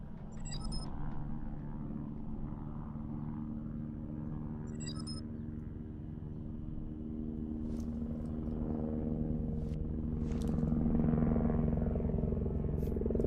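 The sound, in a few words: helicopter flying over city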